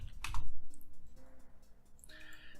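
A computer keyboard being typed on while working in a game editor, with a quick burst of close, crisp keystrokes and clicks in a short run.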